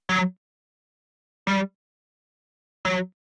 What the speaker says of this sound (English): But with the guitar amp on,